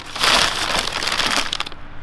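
Paper-wrapped items from an old storage unit being unwrapped up close, a steady loud crinkling and crushing of paper for about two seconds.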